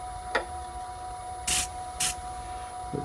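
Short bursts of CA finish sprayed onto a wooden pen blank, two distinct hissing puffs plus fainter brief ones, over a steady hum.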